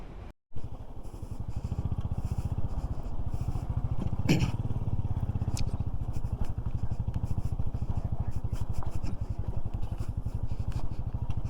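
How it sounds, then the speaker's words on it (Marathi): A motorcycle rides at speed in fifth gear at full throttle into a strong headwind, with steady loud wind roar and buffeting over a low engine drone, continuous after a brief dropout at the start. "एवढा विंड ब्लास्ट आहे ना की 5व्या गिअरवर फुल थ्रॉटल दिल्यानंतर पण 80च्या पुढे जात नाहीये"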